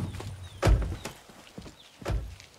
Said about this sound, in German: Mit einem Pferd auf der Straße.